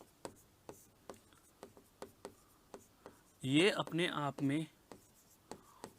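Marker or chalk strokes on a board tap and scrape in short, evenly spaced bursts, with someone speaking briefly in Hindi partway through.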